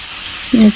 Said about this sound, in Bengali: ধুন্দুলগুলো তেলের মধ্যে ভেজে নেব কিছুক্ষণ